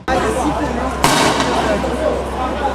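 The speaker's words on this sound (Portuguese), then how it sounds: "está respondendo com tiros de borracha e bombas de efeito moral" One sharp, loud bang from police rubber bullets or stun grenades cuts through a noisy protest crowd, with a low hum and chatter continuing around it.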